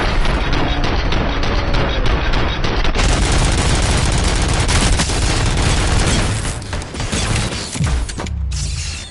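Dense, continuous gunfire in the RoboCop: Rogue City video game, with rapid mechanical clatter and bursts filling the clip at close range, easing briefly near the end.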